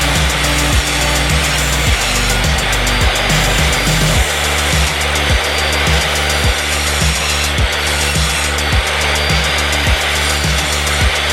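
A hand saw cuts thin material for a truck camper bed floor, steady rapid back-and-forth rasping strokes, loud and close with no talk.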